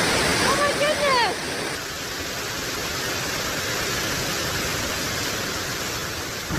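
Floodwater rushes through city streets during a major flood in France, a loud, continuous roar of churning water that stays steady throughout, with a brief chirping sound near the start.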